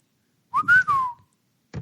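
A duck-call whistle imitates a wigeon: a single short, bright whistled call with a rising-then-falling warble, loud and close, followed by a brief clipped sound at the end.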